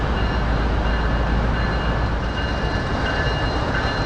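Freight train Q606, led by an ES44AH locomotive, rolls toward a stop with a steady, loud, broadband rumble and rail noise that holds constant throughout, close by and without voices.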